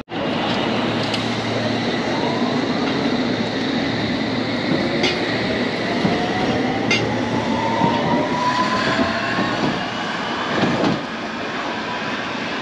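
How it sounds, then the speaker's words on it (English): A London Underground District line train heads towards Wimbledon near West Brompton, a loud continuous rumble and rail roar with squealing wheel tones and occasional clicks over the track, sustained throughout. "that train down there, the one towards Wimbledon, is what I'll take"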